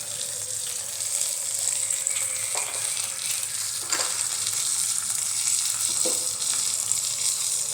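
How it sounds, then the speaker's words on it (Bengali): Black cumin seeds sizzling in hot oil in a wok, a steady close crackling hiss with a few faint stirring clinks and no talking. "কড়াইটা এবার একটু কমিয়ে দিই, ফোড়ন দেবো।"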